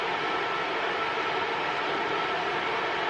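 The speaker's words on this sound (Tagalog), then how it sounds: "Pasensya na kayo sa ingay. Heater yan." Steady broadband roar of a room heater fan running continuously, loud and close, with no voices or breaks.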